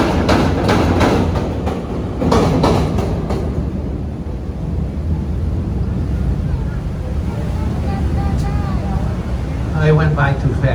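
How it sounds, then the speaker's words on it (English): A Chicago elevated L train rumbles past, heard from the river, with a steady low roar and rattling, joined by wind buffeting; a voice speaks briefly near the start, and a whine emerges toward the end. "Modern technology allows the L trains in Chicago to pass up north."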